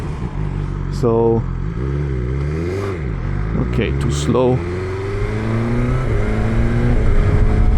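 A BMW S1000XR motorcycle engine revs up and down repeatedly, its pitch climbing in rising sweeps, with someone talking over it.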